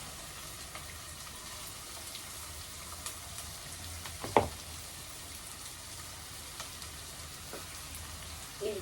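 Onions frying in a pan, a steady faint sizzle with a single sharp clink partway through and no voices.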